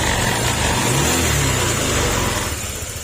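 A freshly reassembled car engine runs steadily at a loud, even idle, the hum easing slightly toward the end.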